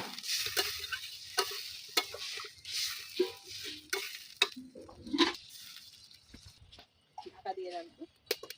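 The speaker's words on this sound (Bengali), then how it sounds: "এবার আমি জল দিয়ে দেবো।" Water goes into a pan of cauliflower, pea and potato curry, bringing bursts of sizzling and hissing alongside spoon scrapes and clinks against the pan, with a voice speaking between them.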